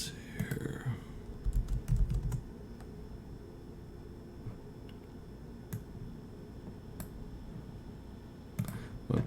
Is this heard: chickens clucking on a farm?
no